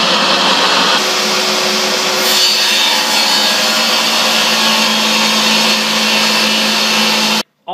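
A power saw cuts through a half-inch plexiglass sheet while trimming it to length, a loud, steady, harsh whine that runs continuously for about seven seconds and then stops abruptly.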